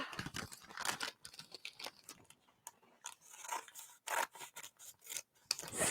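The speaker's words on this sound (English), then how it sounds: "What could be more exciting than watching you cut the bottoms of paper bags?" Scissors snip repeatedly through the folded bottoms of paper bags, giving short, crisp cuts with crinkling paper in an irregular rhythm, close and fairly quiet with pauses between bursts.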